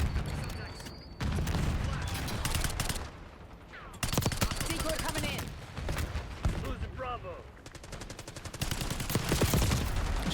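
Black Ops 6 video game gunfire with bursts of rapid shots and booms, loud and close, broken by brief pauses, with a person talking during play.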